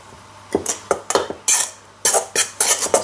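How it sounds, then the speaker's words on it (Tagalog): Flour and salt being mixed in a bowl, heard as a close, loud series of clinks and scrapes of a utensil against the bowl in an irregular rhythm, with no talking. "And then, mix it well."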